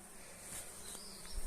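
Dense, continuous buzzing of many Carpathian honeybees around apiary hives during swarming season, a steady hum close by with individual bees passing.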